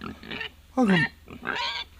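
A pig grunts and oinks in a few close, loud bursts, with a squealing, rising-and-falling call in the middle, set in a rural Ilocano village drama.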